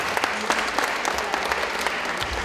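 Audience applause after a poem recitation at a Day of Persons with Disabilities event in Krynica-Zdrój, brisk continuous clapping from a roomful of people with some distinct nearby claps.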